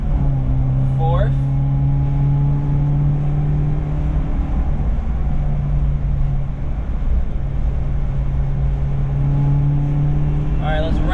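Inside a Subaru Sambar kei van under way in fourth gear, the small engine holds a steady, loud buzzing drone over road rumble, with a brief tonal chirp near the start and end.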